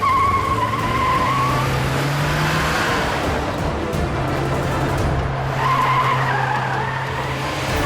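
A car skids hard to a sudden stop as a TV drama sound effect, with long, loud tire squeals that whine, fade and then return over a steady engine roar.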